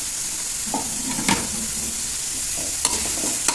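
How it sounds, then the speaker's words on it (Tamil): Vegetables sautéed in a pan for mutton kuzhambu sizzle steadily and close up, with scraping stirs of a spoon and a few sharp metallic clinks against the pan. "வதங்கினதும் இதிலே காய்கறி போட்டு வதக்கிக்கலாம்"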